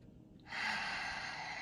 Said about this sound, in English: Again, breathe in deep.